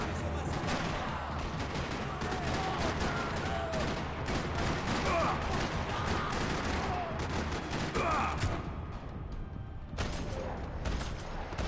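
Sustained video game gunfire from a John Wick mod of a Rockstar shooter, dense overlapping shots and bursts rattling continuously throughout at close range, with a voice talking briefly underneath.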